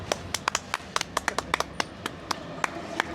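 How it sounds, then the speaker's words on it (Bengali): A small crowd claps in scattered, uneven hand claps at a rural prize-giving for an elderly ghugni seller, fairly close and brisk for a few seconds, with no one speaking over it. "সবাই একটা হাততালি দাও"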